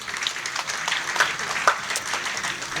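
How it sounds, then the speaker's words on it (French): An audience applauding at a school excellence day at a collège, a dense, steady clapping from a crowd lasting a few seconds, with a faint voice underneath. "Ça s'acclame, je pense."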